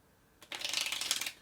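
A quick riffle shuffle of a deck of playing cards during magic-trick handling, a brief fluttering run of crisp clicking card edges that starts abruptly and rattles rapidly for about a second, close up and fairly quiet.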